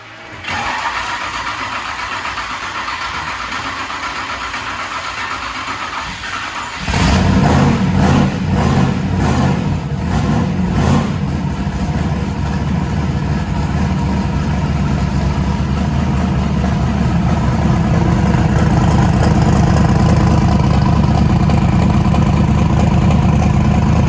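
An old truck engine fitted with a new carburetor is cranked over, catches with a few rough bursts, then settles into a loud, steady, low rumbling idle that grows slightly fuller; no one speaks.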